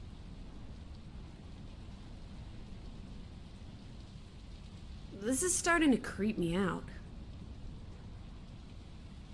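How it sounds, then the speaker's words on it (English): Steady rain hiss with a low rumble fills the outdoor scene in the video game Draugen, continuing throughout while a voice speaks briefly in the middle. "The rain's picking up."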